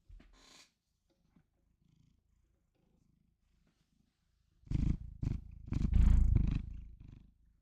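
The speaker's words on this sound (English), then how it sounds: "Eric, purr into the microphone." A pet cat purring right up against a microphone indoors: faint rumbles at first, then a loud, close, rhythmic purr in repeated bursts over the last few seconds.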